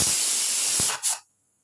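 A pressure cooker cooking rice lets out a loud, steady steam hiss for about a second, then a short sharp whistle burst before cutting off to silence.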